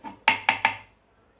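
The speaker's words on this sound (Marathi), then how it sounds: "हे सर्व लिंबू कापून घेते" A knife cuts lemons into pieces for a steamed sweet-and-sour pickle, making three sharp, close chops in quick succession before the sound falls quiet.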